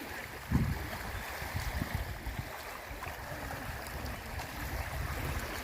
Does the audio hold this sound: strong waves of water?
yes